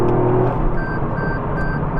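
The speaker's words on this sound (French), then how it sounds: "on va voir une petite accélération en première" A Toyota Yaris GR pulls away in first gear on an empty road, its engine a loud, steady drone heard from inside the cabin for a couple of seconds.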